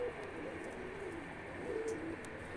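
Pigeons coo softly in a loft, low rolling calls continuing under a steady background hum, fairly faint and close.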